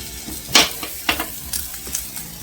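Onions fry in a pan on a home stove for a traditional Karnataka recipe, a soft steady sizzle broken by several sharp stirring clatters of a spoon against the pan at uneven intervals.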